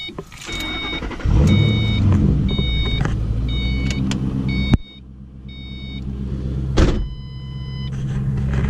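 A 2005 Ford Mustang GT turns over and catches into a deep, close rumbling idle, with a repeating electronic door chime beeping through the start, then a brief drop and a slight engine swell.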